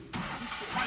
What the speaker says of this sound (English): we got the truck started.